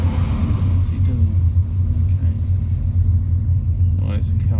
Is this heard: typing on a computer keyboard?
no